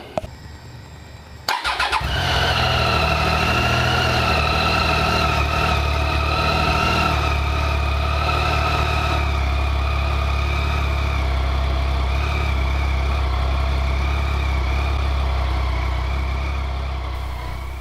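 A Triumph Tiger 800 motorcycle engine starts after a short click and then idles steadily and loudly at close range for the rest of the clip, with a low, even rumble and no voices.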